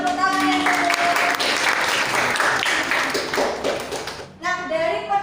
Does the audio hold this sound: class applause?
yes